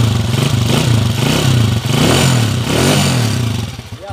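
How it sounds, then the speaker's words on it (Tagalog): A motorcycle engine idles and revs up close after an overhaul, its low throbbing rumble rising and falling steadily with some clattering noise. "Ayan po yung motor ni Angel."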